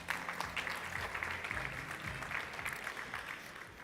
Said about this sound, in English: Can we please give Mostafa a massive round of applause?